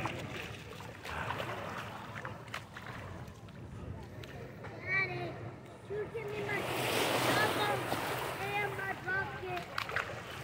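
Surf washing onto Palm Beach in Aruba on a bright day, a steady wash of waves under wind noise, with people talking over it near the microphone.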